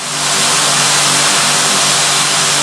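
Motors of a PowerEgg X drone spinning up for takeoff outdoors, a steady loud whirring hum that swells at the start and holds level throughout, with no talking.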